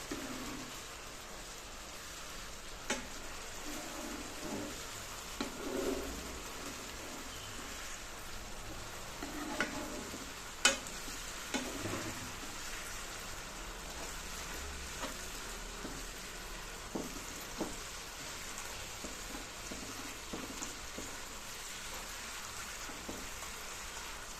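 Tomatoes fry in a pan for tomato rice, giving a steady low sizzle with faint occasional clicks of a spoon, heard alone without talk for the whole stretch.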